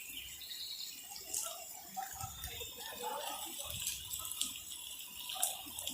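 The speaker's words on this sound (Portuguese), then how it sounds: "Tanta água. Hoje foi muita chuva." Floodwater from a heavy downpour runs along a street in Olinda, Pernambuco, a steady, fairly faint wash of flowing water with light splashes throughout, and passing traffic rumbling underneath.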